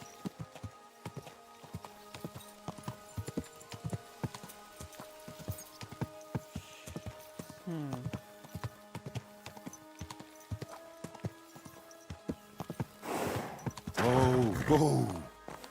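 Horse hooves clip-clop at a steady walking pace in Kingdom Come Deliverance 2, with soft in-game chatter beneath them and a louder burst of sound near the end.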